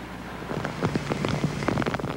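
Rain falls steadily on a hillside after an earthquake, a soft, even hiss of drops with scattered sharper patters, heard alone without speech.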